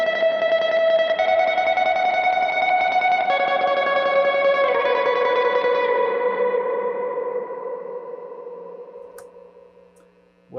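Electric guitar through a drone reverb pedal setting, chords swelling into a thick, endless wash that sustains and slowly fades over about ten seconds, with no other sounds.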